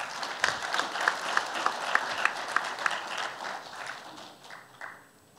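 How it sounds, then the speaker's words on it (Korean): Audience at a policy forum applauding to welcome a lawyer to the stage, with a few sharp claps up front, then a burst of steady clapping that tapers off toward the end. "여러분 최기식 변호사를 박수로서 환영해 주시면 고맙겠습니다"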